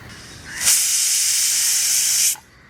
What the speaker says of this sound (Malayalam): അപ്പോൾ ഇതാ നാല് വിസിൽ വന്നിട്ടോ എയറൊക്കെ നന്നായിട്ട് കളഞ്ഞു